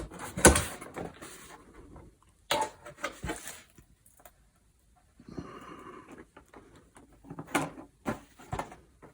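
Cardboard flaps of a Razer Core X box being opened, heard as soft scraping and rustling with a few louder thumps and crinkles, fairly quiet and close, with brief pauses between movements.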